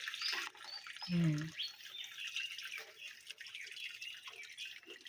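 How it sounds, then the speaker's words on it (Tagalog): Spring water trickles and drips in a shallow stream, a faint bright patter throughout, with one short spoken word early on. "Ayan o, maagos yung bukal."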